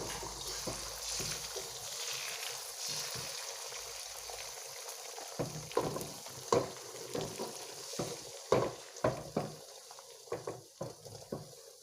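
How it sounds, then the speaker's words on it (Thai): Beaten egg frying into a thin sheet in a pan over low heat, a steady soft sizzle joined by a run of sharp scraping and tapping strokes from a utensil against the pan. "เราก็จะเจียวไข่ให้กับเป็นแผ่นบางๆ แบบนี้เนาะ"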